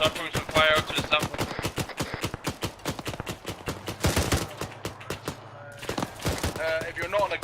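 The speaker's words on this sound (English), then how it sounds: "We're laying down fire on the right side of the road." Rapid bursts of gunfire in Arma 3 during an infantry road battle, dense overlapping automatic shots and single cracks rattling steadily throughout, loud and close, with voices talking over the fire.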